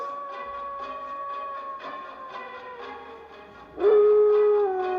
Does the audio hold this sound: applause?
no